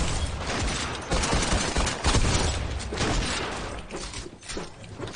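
Rapid shotgun blasts in a multiplayer shooter game, loud and dense, repeating in a near-continuous fusillade with crashing impacts throughout.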